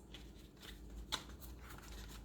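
Oracle deck cards being shuffled by hand, a soft, close, quiet rustling with one sharper snap of the cards partway through.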